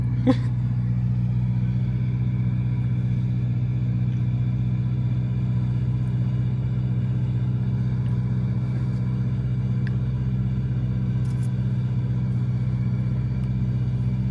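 A Ferrari F8 Tributo engine idles steadily with a low, constant rumble close by, holding an even drone with no revs for the whole stretch.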